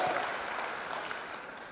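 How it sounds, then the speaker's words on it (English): Audience applause for incoming M.Tech students at a freshers' induction program, a steady, fairly faint wash of clapping from a hall crowd with no clear talk over it. "Yeah, give a big applause to them."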